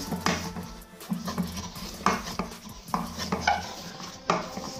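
Chocolate paste being stirred in a bowl: repeated scraping strokes of a utensil against the bowl at an uneven pace, close and moderately loud, with no talking.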